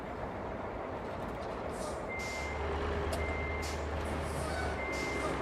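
A game truck's steady low engine rumble runs under repeated high reversing beeps that start partway through, with faint hissing bursts like air brakes, and no talk.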